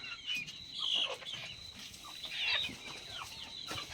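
Native country (gavran) chickens settle on bamboo perches for the night, giving soft, scattered clucks and murmurs at low volume, with no talking.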